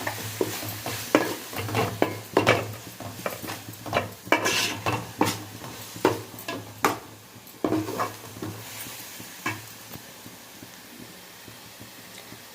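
Fish curry being stirred in a pot, repeated scraping and clinking of a spoon against metal with a soft simmering sizzle underneath, close and steady, with no talking.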